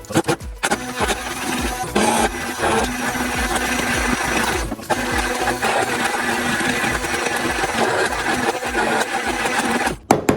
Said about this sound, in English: Stick blender, whatever you got.